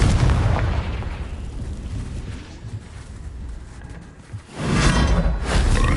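Bombarda and Confringo spell explosions in the Hogwarts Legacy video game roar out as loud, dense blasts, a long rumbling burst that fades briefly before a second powerful explosion erupts near the end.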